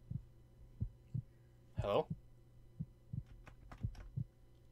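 Steady heartbeat thumps pulse through a horror video game, a regular low double beat repeating about every second, with a player's brief spoken word and a short electronic burst breaking in near the middle.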